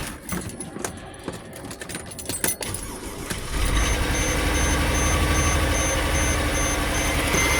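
Clicks and rattles give way to a Mercedes R350 engine catching and settling into a steady, close idle that runs to the end.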